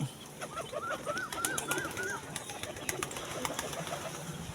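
Pigeons kept by a pigeon raiser flap and land nearby, with bursts of wing clatter and a run of short chirping calls under a steady outdoor background.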